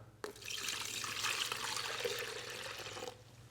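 Water splashes and pours steadily for around three seconds into a container of ciabatta dough, a close, bright rushing flow with a quiet hum underneath.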